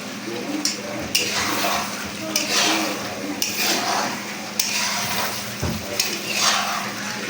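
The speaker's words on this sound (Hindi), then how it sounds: "अभी इसको भूनना ही काम है, ये नीचे भी नहीं लगे" Mutton karahi with ginger sizzles in ghee in a pot while a utensil stirs and scrapes it, giving loud continuous frying with repeated sharp clinks and scrapes.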